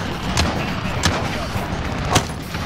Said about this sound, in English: Trying to shoot down the VTOL, Jason.